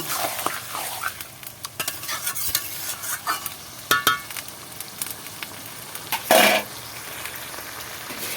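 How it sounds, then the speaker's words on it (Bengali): Meat is stirred in oil in a pan, with scraping, clinking strokes of the utensil over a soft continuous sizzle, and one louder burst of frying near the end. "তেলের সাথে এইভাবে নাড়িয়ে নেব এবার মাংসটাকে"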